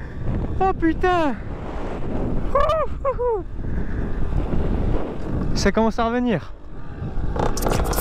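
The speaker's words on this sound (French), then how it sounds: "c'est vrai qu'il y a du vent" Constant blustery wind buffets the microphone with a low roar while riding a Beta 125 motorbike, as someone speaks a few short exclamations over it.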